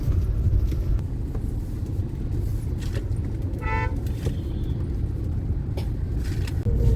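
A car running on the road at the start of a Konkan trip, with a steady low engine and road rumble throughout and a brief horn toot midway, no talking.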